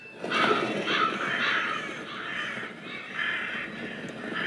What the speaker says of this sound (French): Une nuée d'oiseaux s'envole dans le ciel bleu pâle.